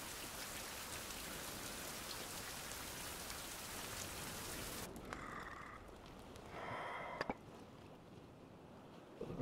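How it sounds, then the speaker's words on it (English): Steady rain falls in the Survival Fountain of Youth video game, a dense, even hiss for about five seconds before it suddenly cuts to quiet ambience with a few faint sounds. "So the rain's over."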